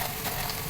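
Cinnamon sizzling in hot oil in a pan while cooking khichuri, a brief close steady frying hiss with no talking.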